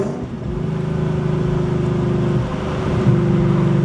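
A V8-swapped Audi car engine runs with a steady, droning exhaust note, rising slightly in a mild rev near the end, heard from inside the car without talk.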